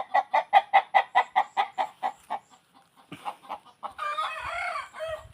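A rooster crows in a burst of rapid, evenly spaced calls on a farm, then more chickens cluck and crow loudly nearby.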